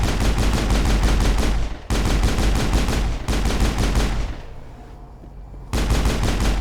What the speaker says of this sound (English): Why are you not shooting them down?